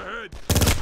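Gunfire in the Made Man video game: a voice shouts briefly, followed by a short pause and then a loud, rapid burst of shots that fills the rest of the moment.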